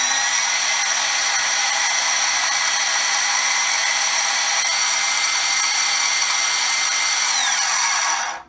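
A Milwaukee M18 wet/dry vacuum's motor runs with a scratchy fault, a steady loud high whine with a gritty edge that holds for about eight seconds and then stops abruptly.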